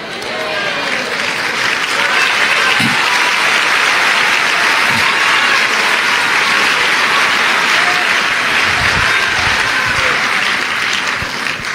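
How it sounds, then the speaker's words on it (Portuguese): A church congregation applauds loudly and steadily for a long stretch, a thick continuous wash of clapping with a few voices underneath. "Você está aplaudindo, é?"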